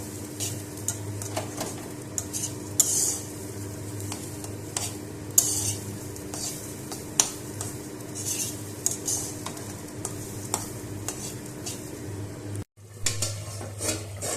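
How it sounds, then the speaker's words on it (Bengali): Spice paste being stirred into chicken polao in a pot: a steady run of spoon scrapes and clinks against metal over a continuous low sizzle, with sharper knocks scattered through and a brief drop in sound near the end. "এই মশলাটা পেস্টটা মিশিয়ে দিয়ে ভালোভাবে নাড়াচাড়া"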